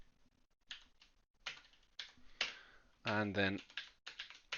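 Quick bursts of keystrokes on a computer keyboard, entering Java code, come in irregular clusters between pauses, close and clear, while someone talks briefly over part of it.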